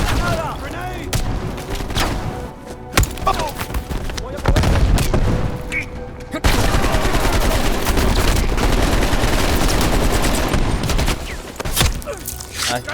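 Loud, dense gunfire from a Call of Duty Cold War battle: overlapping rifle and machine-gun bursts with booming blasts and scattered shots, running almost without a break over busy combat noise.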